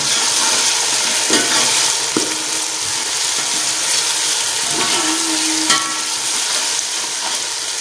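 Mixed vegetables (peas, carrots, cauliflower and potato) sauté with pounded ginger-garlic paste in a hot pan, a loud, close, constant sizzle with occasional scraping stirs and clinks.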